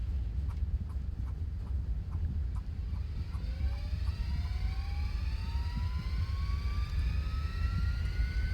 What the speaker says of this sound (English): Engine number 2 just started up.